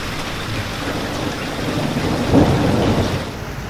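Steady rain falls at Samasata Junction railway station under a shelter shed, with a low rumble of thunder swelling in the middle, continuous and fairly close.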